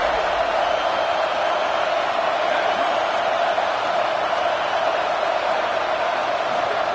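A stadium crowd at a college football game roars as a steady, dense wash of noise, loud and unbroken throughout with no distinct claps or chants standing out.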